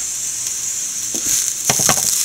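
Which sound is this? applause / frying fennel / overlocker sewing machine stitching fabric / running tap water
frying fennel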